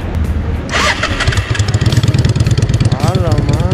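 A Yamaha V-Star 650 bobber motorcycle engine cranks and fires up close, then settles into a loud, throbbing idle with a fast, even pulse, while someone talks over the start.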